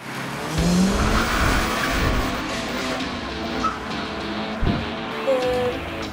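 Race cars, SUVs and performance cars rev and accelerate at a half-mile race, a steady, loud engine roar with rising and falling pitch and faint tire noise throughout.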